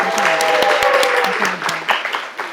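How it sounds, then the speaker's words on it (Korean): An audience claps to welcome a guest artist at a Korean Christian art event, a brief burst of close applause with a voice speaking over the first part. "박수로 맞아주시죠"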